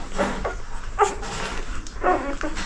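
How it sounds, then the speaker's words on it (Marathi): Eight newborn puppies of a dog named Jimmy produce soft whimpers and yips in a few short bursts, close by, over a faint outdoor background. "हे तिची पिल्लं."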